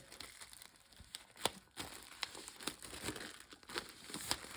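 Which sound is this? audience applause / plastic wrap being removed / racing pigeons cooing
plastic wrap being removed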